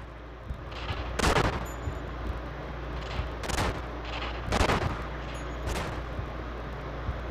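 Gunfire in the video game Manhunt: several loud, sharp shots ring out at roughly one-second intervals, with brief pauses between them, over a steady background rumble and no speech.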